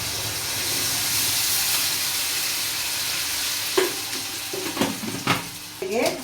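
Onion and pepper fry in a pan with a steady, loud sizzle and hiss, with occasional stirring scrapes and clinks near the end.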